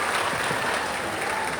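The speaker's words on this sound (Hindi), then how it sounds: "एक बार जोरदार तालियां।" A large festival crowd at an outdoor cultural event gives loud, sustained, dense applause, a continuous wash of clapping with no pauses.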